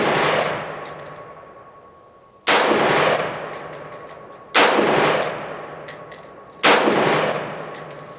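Three loud, sharp rifle shots from a Radical Firearms RF-15 firing 55-grain ammunition, evenly spaced about two seconds apart, each with a long ringing decay outdoors.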